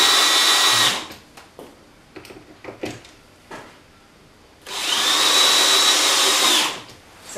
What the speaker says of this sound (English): make sure your drill's in forward.